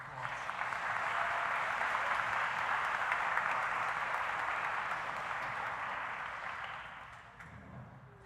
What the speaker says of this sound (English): Please give Yvette another round of applause.